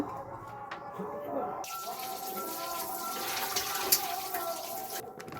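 Water poured from a tap into semolina and rice flour for malpua batter gives a steady, soft splashing stream over several seconds, fairly faint, with a voice speaking in the background.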